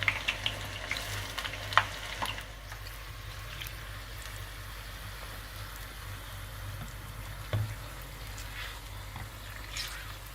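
Aubergine frying in peanut oil gives a soft, steady sizzle with a few brief clatters near the start and again later, low and continuous with no voices over it.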